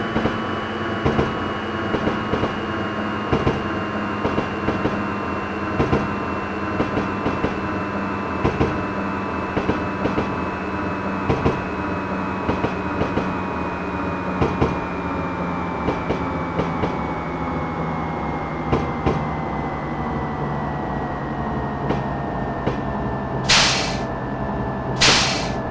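A Chuo Line rapid 201 series train pulls into Tokyo terminal in Densha de GO! 3, its steady rumble and rhythmic wheel clicks sliding lower in pitch as it slows, with short hisses near the end.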